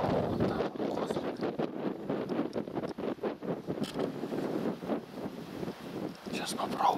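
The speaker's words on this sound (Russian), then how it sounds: "Ветер боковой сильный." Strong side wind in a winter forest buffeting the microphone in heavy, uneven gusts while on horseback, with a few faint knocks and sounds in the background.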